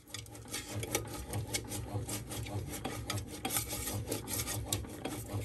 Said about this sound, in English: the machine is slowly mixing the seeds that have been dispensed into the bread